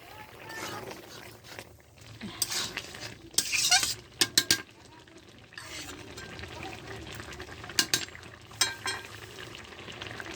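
Ground green chili paste and spices, including cumin and black pepper, go into a simmering tengra fish curry with taro stems, with stirring and clinks of a spoon on the pot over a low bubbling background.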